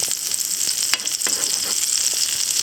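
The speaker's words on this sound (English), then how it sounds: "I like the sizzling." Pancakes sizzling in a frying pan make a bright, steady crackle up close, broken by a few sharper pops and small clicks, and nobody speaks.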